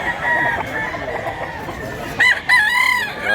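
A rooster crows loudly nearby, a long drawn-out call followed by a second crow near the end, over faint outdoor background noise in Mantalungon, Barili.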